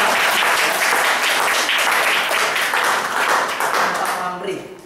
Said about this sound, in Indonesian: Tepuk tangan buat Pak Hendro